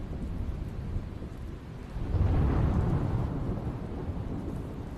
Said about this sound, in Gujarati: ગઢડા વિસ્તારમાં ધોધમાર વરસાદ થયો